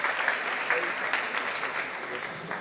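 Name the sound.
audience small clap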